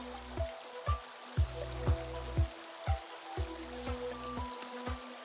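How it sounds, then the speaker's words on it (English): Water runs through an ENS Easy Sluice fitted with a screen, used for gold prospecting outdoors in cold weather, making a steady close rush with regular rhythmic splashing pulses about twice a second, with no voices. "I'm running my ENS Easy Sluice"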